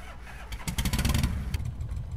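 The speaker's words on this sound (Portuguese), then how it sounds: "vou estar ligando a motinha com a tecla aí" A motorcycle engine in a video game cranks and catches, then idles with a burst of rapid, rattling revs before settling, fairly close and loud.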